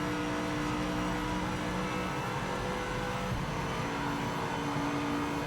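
An Aston Martin race car engine in Project Motor Racing holds steady at high revs, droning loudly and continuously into overspeed with no let-up in the tone.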